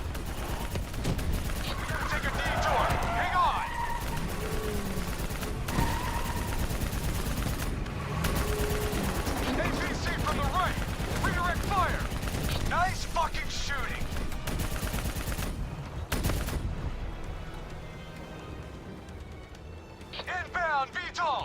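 Sustained gunfire aimed at a VTOL aircraft in Call of Duty Black Ops 3, with dense bursts running through most of the stretch under shouted voices and other game effects, thinning out near the end.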